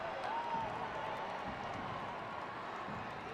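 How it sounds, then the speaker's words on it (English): Stadium crowd at a 2022 NWSL soccer match between Portland Thorns and San Diego Wave, a steady broad roar of cheering and applause that holds level throughout with no single voice standing out. "The crowd goes into a premature frenzy."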